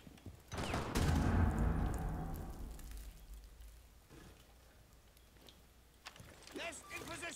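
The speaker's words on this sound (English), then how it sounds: "Loading new mag." In a shooting video game, a loud burst of gunfire gives way to mechanical clicks and clacks as a fresh magazine is loaded, followed by a few more sharp metallic snaps.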